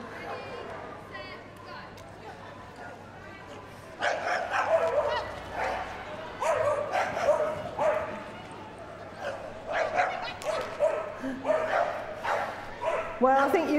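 Staffordshire Bull Terriers bark and yip in an arena display at the Crufts dog show, a run of sharp, excited barks that grows louder partway through, heard under a commentator speaking over a PA.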